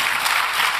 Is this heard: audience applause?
yes